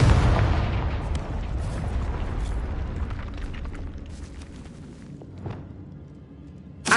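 A fire-blasting spell explodes in the video game Hogwarts Legacy, a deep, roaring boom that rumbles loudly and slowly decays over several seconds, with faint crackles and a small thump near the end.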